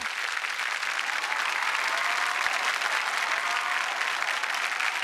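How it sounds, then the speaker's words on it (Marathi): A studio audience at a Marathi comedy show claps loudly and continuously, a thick, even wash of applause holding steady from start to finish with no talk over it. "जोरदार टाळ्या"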